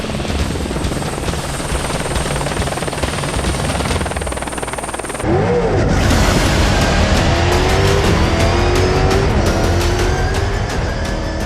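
Mathieu Serradori's Century rear-wheel-drive carbon-fibre buggy at the Rallye du Maroc, a loud engine roar that builds sharply midway and holds steady with rising revving tones, no voices.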